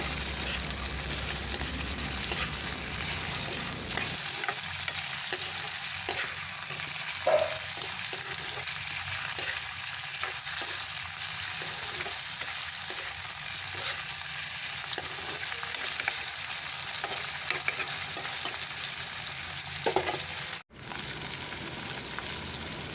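Chicken pieces sizzle steadily in hot oil while being stirred, a constant close frying hiss with soft scraping and clatter from the stirring throughout.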